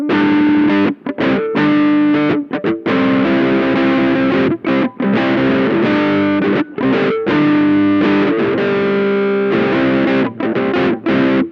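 Distorted electric guitar, a Supro Sahara with its tone knob rolled fully back and volume fully up, giving a dark, muffled tone, chords and riffs played loudly with brief pauses between phrases.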